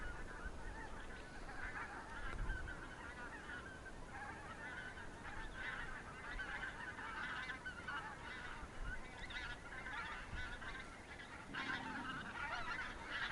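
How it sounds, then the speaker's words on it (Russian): A flock of geese circling near a village, many honks overlapping in a continuous faint chorus carried from a distance, with no talk over it. "Кружат, хотят садиться походу."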